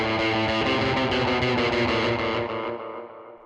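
An electric guitar playing a riff, its delay fed into distortion, rings thick and loud with repeating echoes for about three seconds before the tail fades away.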